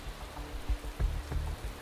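Steady rain patters on the track in an F1 racing video game, a soft continuous wash with low rumbling thuds underneath, moderately quiet throughout.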